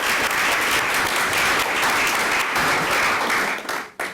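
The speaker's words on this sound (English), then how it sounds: "let's give them a round of applause anyway for their appointment" A council chamber audience gives a round of applause for newly appointed council members, dense steady clapping that continues for several seconds before thinning out and stopping near the end.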